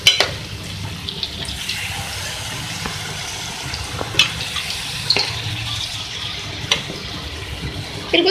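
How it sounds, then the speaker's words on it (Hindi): Water is poured into a pan of frying taro (arvi) karahi curry, making a steady, close splashing and pouring sound with small bubbling bursts throughout and no speech. "इसके साथ मैं इसमें ऐड करूँगी पानी।"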